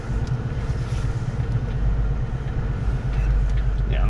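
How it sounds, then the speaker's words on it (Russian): Truck engine rumbling steadily as the truck reverses slowly out of a garage bay toward its trailer, a close, low, continuous drone with a slight rise near the end. "так вот задним ходом мы поедем благополучно цепляться до прицепа"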